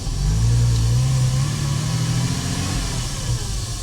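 A Porsche engine running as the car pulls away on its first drive after restoration, in darkness outside; a steady, loud mid-pitched engine drone with slight revving, close up and alone.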